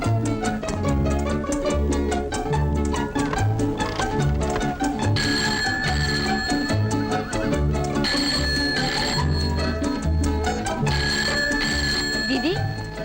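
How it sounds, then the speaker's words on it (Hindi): A telephone bell rings continuously and loudly, mixed into dense dramatic background music throughout, in a Hindi drama scene. "दीदी, दीदी फोन बज रहा है।"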